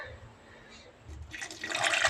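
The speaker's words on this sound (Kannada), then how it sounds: "ನೀರು ಹಾಕ್ಬಿಟ್ಟು ರುಬ್ಕೊಂಬಿಟ್ಟು ಬರ್ತೀನಿ." Water is poured into ground chilli powder and salt before grinding. After a quiet start, a short splashing pour rises near the end.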